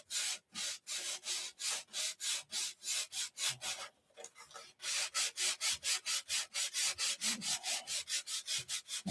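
Rhythmic back-and-forth sanding of filler on wood, dozens of even rasping strokes in a steady close cadence, broken by one short pause before resuming at the same pace.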